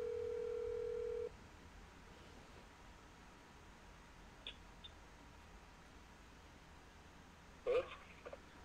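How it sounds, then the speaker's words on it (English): A steady telephone tone hums for just over a second, then the line falls nearly silent apart from a few faint clicks and a short burst of noise near the end. "Phone is dialing."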